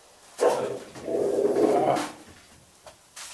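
A dog barks and growls in a few moderately loud bursts nearby, with a longer grumbling stretch in the middle, then trails off into quieter sounds.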